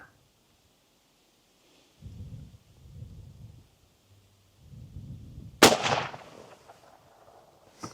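A single lever-action rifle shot cracks sharply after a few soft thumps and handling noises, followed by a brief rumbling decay outdoors; moderately distant and fairly quiet overall.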